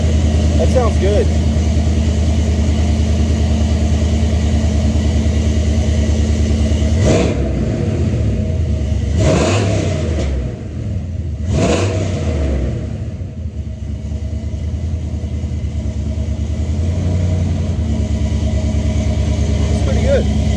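A Chevrolet Silverado pickup truck with aftermarket exhaust headers rumbles at idle with a deep exhaust tone, briefly revving a few times before settling back to a low idle.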